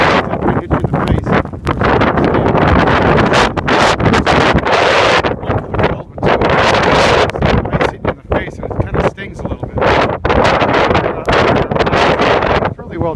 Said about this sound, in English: Good view of how hard this wind is blowing up here.